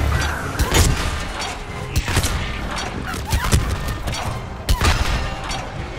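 Dense gunfire fills a battle in the Mass Effect 3 video game, rapid shots and impacts overlapping continuously at loud volume with booms and mechanical clatter.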